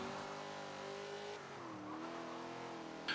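A Holden Sandman races in Forza Motorsport 7, its engine droning steadily with rising and falling pitch and some tire scrub, loud and continuous with no talk.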